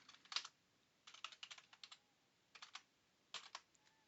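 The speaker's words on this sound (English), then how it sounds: "If I type show tables," Quiet, close typing on a computer keyboard, short clusters of keystrokes separated by pauses, entering a database command with no speech.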